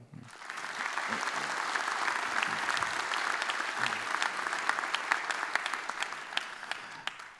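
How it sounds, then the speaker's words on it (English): Sustained audience applause at the opening of the Droidcon Berlin 2018 developer conference, a dense steady roar of many hands clapping for the full stretch, moderately distant and filling the hall without any talk over it. "So I want to have a big applause to them for this first day."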